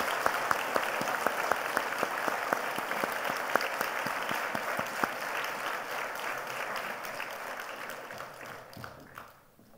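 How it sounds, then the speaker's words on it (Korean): Church congregation applauding during a worship service, a dense steady round of clapping with a few sharp louder claps that fades out near the end. "다시 한 번 더 큰 박수로 격려하도록 하겠습니다"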